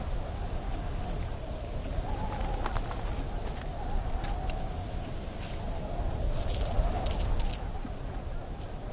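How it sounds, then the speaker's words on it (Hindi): Metal coins jingling and clinking in bursts over a constant low rumbling background, with brighter clusters of rattles toward the end. "मेरा तमाम सरमाया यही 18 सिक्के हैं"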